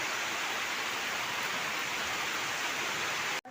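Steady heavy rain from Cyclone Remal hisses continuously as a broad, even wash of noise, close and constant, ending abruptly with a brief cut near the end.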